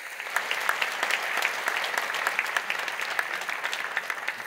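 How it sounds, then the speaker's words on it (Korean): A Korean church congregation at Sunday worship claps to welcome two new ministers, a brisk, even patter of many hands sounding fairly distant and soft throughout. "여러분 크게 박수로 환영하시지요"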